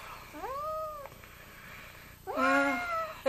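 A cat meows twice up close, each a drawn-out, rising-then-falling call separated by a short quiet gap, the second meow louder and fuller than the first.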